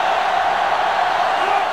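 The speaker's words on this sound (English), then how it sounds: "this crowd is going absolutely insane." Stadium crowd noise from the college football video game NCAA Football 2005, South Carolina versus Clemson, forms a loud continuous roar of cheering with no breaks.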